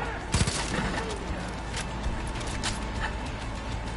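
Gunfire in Far Cry 5, a dense burst of shots early on followed by steady sporadic firing over a busy game soundscape, with talk mixed in.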